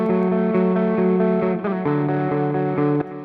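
Sustained electric guitar chords through a ping-pong stereo delay in the Clairvoyant Amp Suite, notes repeating in quick echoes that bounce side to side, with a couple of chord changes.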